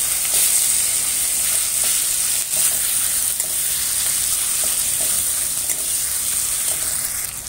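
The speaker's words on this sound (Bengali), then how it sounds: "এইদিকে হচ্ছে মশলাটা আমি কষে নিচ্ছি" Bengali-style spice paste for an egg poach curry frying and being stirred in a pan, with a steady close, loud sizzle and hiss running throughout and no one talking.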